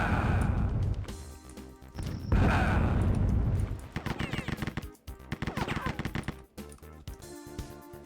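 Gunfire in the Rise of the Triad shooter game, loud close bursts of shots with a dense rapid stretch and then choppy repeated firing, heard alone without talk.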